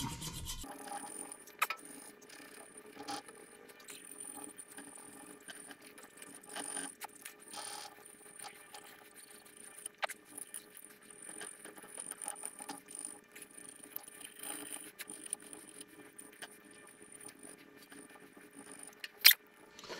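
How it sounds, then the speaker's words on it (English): Razor blade scraping leftover material off the surface of engine cylinder heads, a steady run of faint, gritty scrapes and rasps with a sharp click near the end, no talk. "we scraped it all down with the razor blade"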